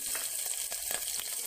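Green chilies hit hot oil with roasted cumin for a Sindhi lotus root dish, giving a steady, close sizzle with faint stirring.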